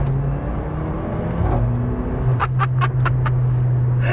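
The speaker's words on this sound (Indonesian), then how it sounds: "setiap kali pindah ke gigi bawah ada brurat tak tak tak tak tak" A Mercedes CLA 45 AMG engine hums steadily while downshifting, and a series of about five sharp clunking rattles comes quickly near the end.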